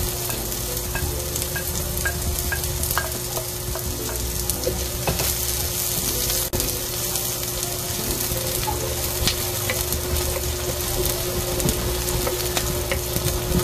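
Onions frying and sizzling in a pan during a stir-fry of vegetables with chicken, a steady close hiss with occasional stirring clicks running throughout, no talking.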